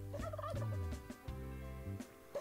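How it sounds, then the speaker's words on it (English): A turkey-style gobble stands in as a toucan's call in the Paperman mail delivery platforming game, a loud rapid warbling burst that repeats in a couple of bouts, with no talk over it. "I love that the toucans make turkey noises."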